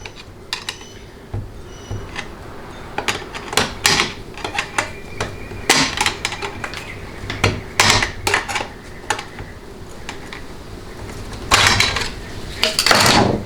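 Two screwdrivers pry and clatter against parts of a Ford 6R80 automatic transmission on a workbench, giving irregular sharp metallic clinks and scrapes, close and fairly loud, with no talking.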